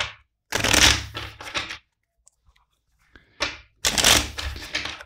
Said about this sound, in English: First, let's shuffle the deck four times.